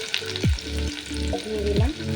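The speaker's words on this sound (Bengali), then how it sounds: "রসুন কুচি আর আদা কুচিটা আগে দিয়ে দেবো" Chopped garlic and ginger sizzle steadily in hot oil for a chowmein, a loud continuous fry with a few sliding tonal scrapes from a utensil against the pan.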